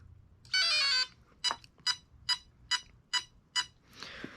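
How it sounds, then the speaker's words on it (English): A long electronic tone followed by six short, evenly spaced beeps, then a final softer tone, from a 6-cell RC car speed controller starting up in an Arrma Limitless 1/7 build, all clear and close with no talking. "We're going to turn it on. We should hear 6 beeps."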